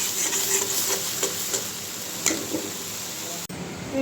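Shutki, dried fish, cooks in a pan on a stove, giving a continuous loud sizzle with occasional stirring clinks and scrapes, and a brief clunk near the end.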